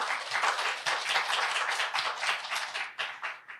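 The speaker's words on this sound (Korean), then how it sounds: "네, 다시 한번 큰 박수 부탁드리겠습니다." A crowd applauds steadily at an indoor research presentation event, many hands clapping in a dense, continuous patter that fades slightly toward the end.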